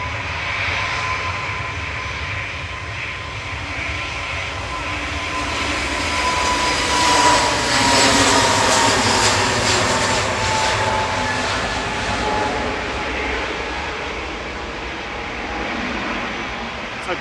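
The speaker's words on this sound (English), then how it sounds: "That's off to Corfu, GUZEF, A320-200 Neo, flight 2061." Airbus A320-200neo jet taking off at Manchester Airport, a rising engine roar that swells to a loud peak mid-way, then slowly fades as the aircraft climbs away, with a faint voice at the edges.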